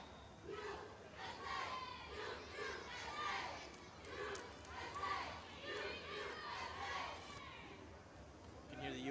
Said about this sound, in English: You can hear the U.S. bench cheering on its offense.